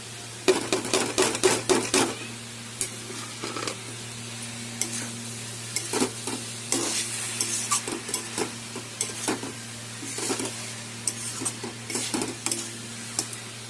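A papaya and rice dish, pepe ghonto, is stirred in a sizzling pan just after a spoon of ground cumin is added, with quick irregular spatula scrapes and clinks over a low, steady frying hiss.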